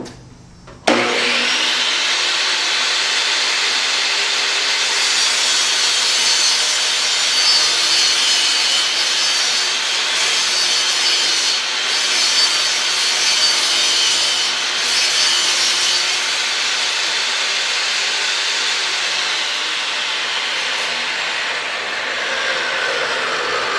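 A Porter Cable PCB220TS table saw spins up and cuts 3/4 inch OSB in one loud, sustained whirring rip that runs steadily for over twenty seconds.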